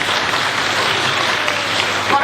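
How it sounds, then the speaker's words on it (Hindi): A lecture audience in Vrindavan, India claps together in a dense, steady patter of many hands, close and even for a couple of seconds. "सब हाथ ताली दो"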